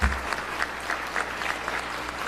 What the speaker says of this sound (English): We can have another round of applause for our guests.